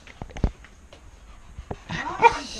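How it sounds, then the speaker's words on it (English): A dog gives a few sharp barks and yips, then whimpers and whines, close by with some movement noise. "Dog becomes crazy."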